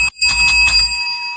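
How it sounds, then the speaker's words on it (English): A single bright ring from a podcast host's new bell, loud and close, with a sharp strike followed by a sustained metallic tone that fades within about a second. "I be forgetting you got the new bell."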